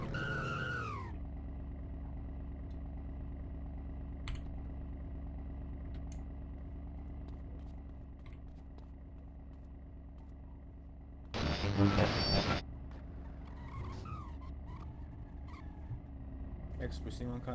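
A car in a video game drives with a steady engine drone and skids, with a loud burst of tyre noise near the middle, while someone talks over much of it.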